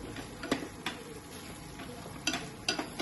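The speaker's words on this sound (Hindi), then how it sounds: "देखिए, तेज आंच पे आप इसको भून सकते हैं।" Chicken Patiala being stir-fried over high heat in a pan, a steady sizzle broken by a few sharp scraping stirs of the spoon, close and alone.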